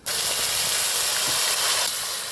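Onion paste drops into hot oil in a wok, where whole spices and caramelised sugar are frying, and bursts into a loud close sizzle that starts abruptly and then holds as a dense, steady hiss.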